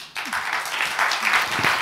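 Applause from the audience at a French defence-sector round-table on attracting talent, greeting the panellists; a dense, steady wash of clapping starts abruptly and carries on at an even level.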